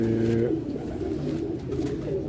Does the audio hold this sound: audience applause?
no